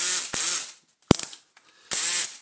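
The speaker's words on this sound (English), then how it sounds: "we have to remove these 4 screws here that hold this end" A ratcheting screwdriver loosens screws on a Numatic Henry vacuum cleaner, with two long buzzing ratchet runs separated by a few sharp clicks and taps, close up and with no voices.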